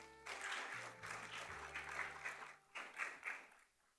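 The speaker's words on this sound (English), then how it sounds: "Let's give another round of applause." Audience applause after a presentation at a sustainability research session, a steady wash of many hands clapping that swells and fades over a few seconds, fairly faint and alone.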